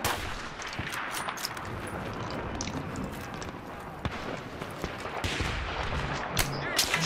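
Gunfire in the Battlefield 3 video game comes as a string of sharp, single crackling shots spaced irregularly over a noisy battle background, some closer and louder, some more distant.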